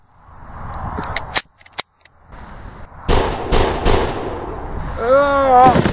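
Gunshots ring out in a Western-style drama scene involving a sheriff. Several sharp, loud cracks come in quick succession over a tense background, followed by a dense burst of shots and then a rising voice.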